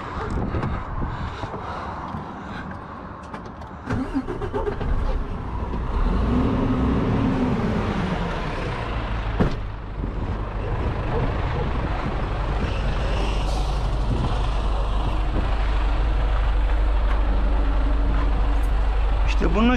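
A truck engine cranks and catches, then settles into a deep, steady diesel rumble that builds and holds, heard close with someone talking over it at the start.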